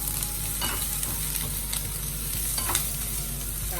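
Onion frying and sizzling in a pan for Filipino pork afritada, a close, steady hiss with light stirring clatters throughout, no talk.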